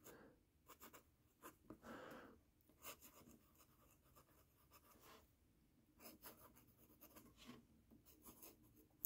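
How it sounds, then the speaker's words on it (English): Sailor Fude De Mannen fountain pen writing on paper, giving soft, close scratchy strokes that come in short separate bursts with brief pauses between them, faint and isolated in a quiet room. "But I am going to do a little writing sample."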